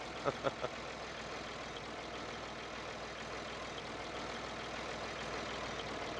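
A heavy tractor engine drones steadily with a low, labored rumble while straining uphill in Farming Simulator 19, with a few quick knocks near the start and no voices.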